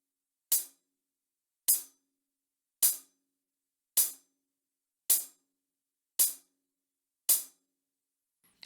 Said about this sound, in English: I'm going to play on the hi-hat with my right hand quarter notes.